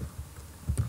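Quick keystrokes on a computer keyboard while coding web pages, a short burst of soft close clicks with the last few taps louder, no talking.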